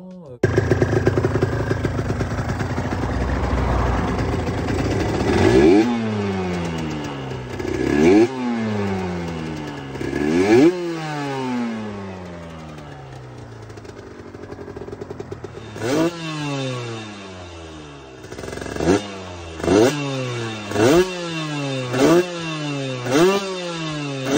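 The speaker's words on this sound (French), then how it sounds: "Le moteur a bien démarré, ça tourne super bien." A two-stroke Aprilia RS125 motorcycle engine idles, then revs repeatedly in sharp climbing bursts, loud and close, with a rapid series of throttle blips near the end.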